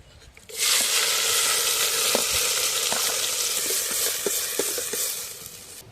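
Onions and fenugreek dropped into hot oil in a pan at an outdoor village cooking setup, a sudden loud burst of sizzling that stays steady and bright, with scattered small pops and crackles throughout.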